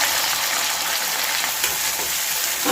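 Onions frying in hot oil with curry leaves and ginger-garlic paste for a prawn masala: a loud, dense sizzle heard close up that stays constant for the whole stretch.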